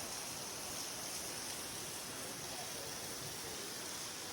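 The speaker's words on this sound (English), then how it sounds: "there's this giant cave with cliffs and another waterfall" A smaller waterfall beside a large cave among cliffs in the Sipsey Wilderness gives off a steady, faint, broadband rush of falling water, unbroken and with no voices.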